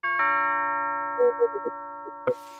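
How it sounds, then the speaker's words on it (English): A home doorbell chimes with a sustained ringing tone, followed by a few faint knocks or clicks and a brief louder thump near the end, heard alone at moderate level. "the bell is working"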